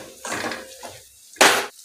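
A spoon stirring potato shira, a sweet fasting pudding with cardamom powder, in a pan: two short scraping, clinking strokes, the second louder and sharper, close up with no voices.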